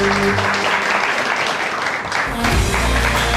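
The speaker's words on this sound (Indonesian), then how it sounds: "Tepuk tangan untuk Cecep Abdullah." Studio audience applause on an Indonesian televised national dialogue program, dense clapping throughout with music tones underneath, swelling again near the end.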